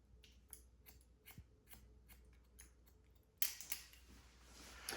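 Scissors snip rapidly in small point-cutting strokes through gray hair on a pixie cut, a string of crisp, faint metallic clicks close up, then a rustling brush of hair and movement.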